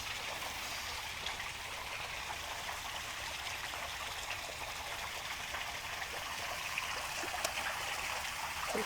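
Canal water pours steadily down a drain or overflow point beside the Lancaster Canal, a continuous close rushing trickle with a few faint ticks on top and no talk.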